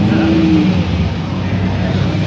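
Ford Windsor V8 car engine at a cars-and-coffee meet, running with a loud, steady rumble and a slight rise in revs, close by, with outdoor crowd noise mixed in.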